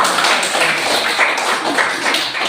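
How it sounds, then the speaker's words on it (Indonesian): Applause in a classroom, a steady dense patter of many hands clapping together at close range, with no talk over it. "Tepuk tangan sekali lagi untuk"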